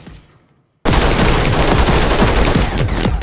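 Rapid automatic gunfire in the video game Ready or Not, with rounds at a very high rate of fire, erupts after a brief quiet and continues as a dense, loud, unbroken burst.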